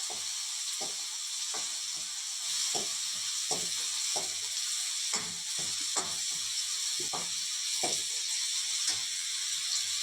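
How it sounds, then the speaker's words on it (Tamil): Tomatoes sauté in a pan with a little salt, giving a continuous high hiss of frying overlaid with regular soft scraping stirs at close range. "இந்த தக்காளி நல்லா வதங்கி வர்றது கொஞ்சமாக உப்பு சேர்த்துக்கலாம்"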